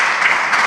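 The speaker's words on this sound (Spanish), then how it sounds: "Por favor, un aplauso a mis ayudantes." Audience applause for stage helpers, a brief burst of steady clapping at close range with no talk over it.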